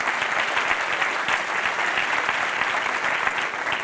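A church audience applauds a 14-year-old girl who is about to sing, a full, even roar of clapping that carries steadily from start to finish.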